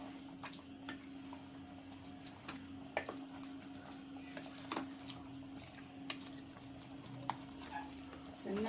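Mutton chops turned in masala in a pan, giving soft irregular clicks and scrapes of a spoon over a faint steady hum, fairly quiet and close.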